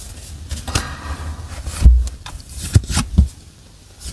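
A series of sharp snaps and soft slides as tarot cards are drawn, several distinct clicks spaced irregularly, close and fairly loud with no talking.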